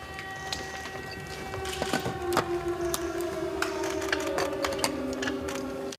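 An air raid siren in Ukraine wails, holding a steady tone that slowly slides lower, with clicks and rattling noises scattered over it throughout.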